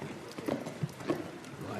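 Horse hooves clip-clop on the footing of a show jumping arena at a Grand Prix event in France, several close thuds in an uneven gait, under a commentator's voice.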